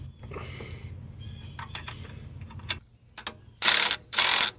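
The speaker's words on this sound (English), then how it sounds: "This is the idler arm to relay rod nut, and it also gets tightened down to 46 foot-pounds of torque." A ratchet tightens the nut joining an idler arm to a relay rod in a vehicle's steering linkage, torqued to 46 foot-pounds. After a quiet stretch, two short bursts of close, rapid clicking are heard.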